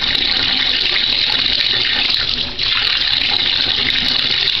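Tap water runs and splashes steadily as someone bathes under a faucet, a constant close rushing gush with a brief dip midway, no voices present.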